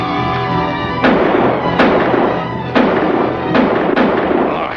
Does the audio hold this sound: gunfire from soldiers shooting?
yes